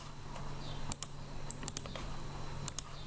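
Quiet computer keyboard typing while entering a measurement in SketchUp, a few scattered light key clicks over a steady background hum.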